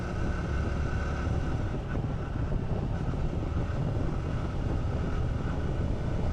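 Honda Trail 125 motorcycle riding along a road, a continuous engine drone mixed with heavy wind rush at steady loudness, with no talk.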